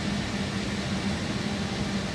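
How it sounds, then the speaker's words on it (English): An Airbus A220 geared turbofan engine spooling up during a start in Microsoft Flight Simulator 2024 gives a steady, even roar of rushing air with a low, constant hum underneath, holding level throughout with no speech. "These geared turbofans, they take forever."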